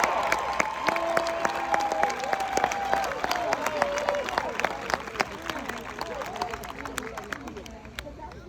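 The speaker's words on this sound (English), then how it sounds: "how about a round of applause for Nicholas Noel?" Applause from an audience at a Special Olympics event in Livingston, scattered sharp claps over crowd chatter and a lingering tone, thinning out and growing fainter toward the end.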